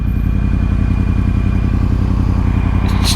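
A 2013 Yamaha R1 sport motorcycle engine runs at a steady, loud, close rumble, a continuous low throb with no talking.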